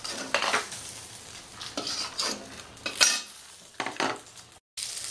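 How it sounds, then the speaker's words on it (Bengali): Vegetables for Bengali shukto, bitter gourd among them, fry in oil in a pan, a soft sizzle broken by several sharp scrapes of a spatula stirring against the metal, fairly quiet, with a brief dropout near the end. "এবার আমি একটা একটা করে সবজি ভাজবো।"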